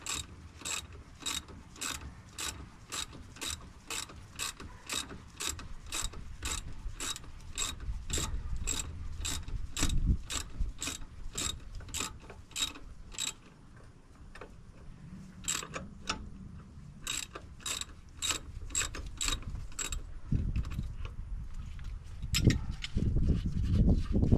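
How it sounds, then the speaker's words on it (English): A ratchet wrench clicks in fast regular runs while turning the shock absorber shaft nut on a 2022 Ram 3500 with air ride, two long bursts of sharp ratcheting separated by a brief pause, with low mechanical rumble and scraping beneath. "ratchet the shaft itself. That way I don't have to keep taking the wrench off and reinstalling it onto that nut."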